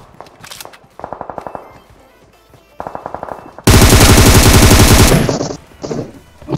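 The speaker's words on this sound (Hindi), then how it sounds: "तो मैं M762 से एक बंदे को नॉक करता हूँ" Bursts of M762 assault rifle fire in PUBG play in short rapid volleys, then a long, loud, sustained automatic burst, close and dominant, with no voices over them.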